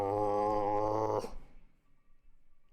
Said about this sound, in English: I think there's a zombie sound effect in here.